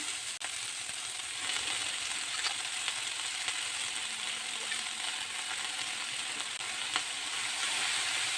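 Small tomato greens frying in oil, a steady, faint hiss of sizzling that runs unbroken throughout, with occasional light clicks from stirring and no talking.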